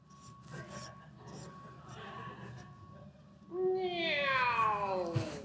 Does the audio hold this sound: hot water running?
no